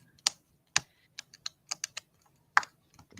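Clicky mechanical keyboard typing in a quiet room, a few sharp key clacks spaced irregularly, close and fairly faint with no talking.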